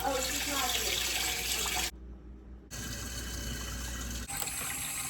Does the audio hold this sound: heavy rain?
no